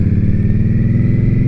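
An Indian Scout Bobber motorcycle engine running loud and close, a steady throbbing pulse at constant speed with no change in revs.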